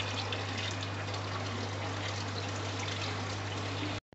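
Salt water pours from a bucket into a tank in one continuous, steady rushing stream over a low electrical hum, stopping abruptly at the end.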